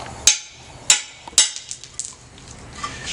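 Three sharp, light hammer taps strike glass at an even pace, each a crisp tick, followed by faint clinks and small debris sounds.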